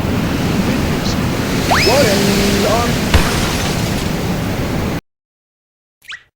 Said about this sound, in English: The wind pushed me back to the rainy room.